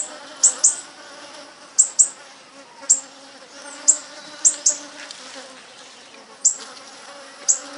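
Bees living in a city hive buzz in a steady low drone, with sharp insect clicks or chirps recurring about once a second over it, close and moderately loud.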